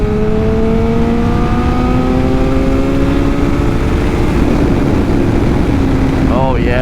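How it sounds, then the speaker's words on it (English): A Kawasaki ZX7R motorcycle pulls hard in fourth gear from 70 to 100, its engine note climbing steadily in one continuous loud rise, nearby and alone apart from wind roar. "4th gear pull at 70 to 100."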